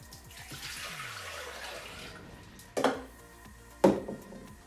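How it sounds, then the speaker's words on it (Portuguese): Water poured into a Thermomix (Bimby) jug for lemonade, a gentle steady trickle with two sharp clunks of the container near the end, close and fairly quiet. "vamos meter 1 litro de água na Bimbi."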